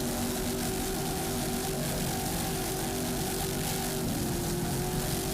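A 2002 Fountain powerboat on the water off Miami Beach runs its engines hard under throttle, a loud, steady roar with droning tones that shift in pitch near the end.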